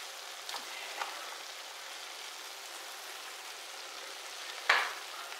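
Seafood noodles stir-fry with lettuce in a pan, giving a soft, steady sizzle with a few light clicks and one sharper clatter near the end. No one speaks.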